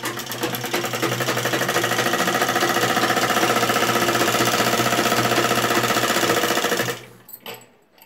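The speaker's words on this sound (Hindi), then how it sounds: "अब ये साइड वाला कपड़ा हम इस पर ऐसे फोल्ड करके इस पर सिलाई लगा लेंगे" A sewing machine runs steadily as it stitches folded fabric for a kameez neck design, a continuous rapid mechanical whir close by for about seven seconds before stopping abruptly, with a few faint handling clicks after.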